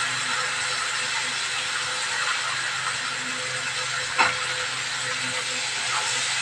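Cauliflower frying in a pan with salt and turmeric gives a steady, even hiss throughout, broken once by a brief clack of a utensil.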